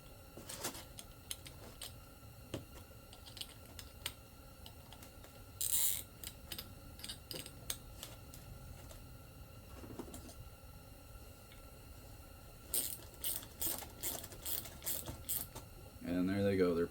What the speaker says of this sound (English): I find it best to use a vise to squeeze them together.